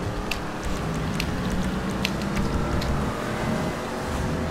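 A car driving in GTA 5 Online, a steady engine drone with a rough low rumble that holds fairly level throughout, close and continuous with no talking over it.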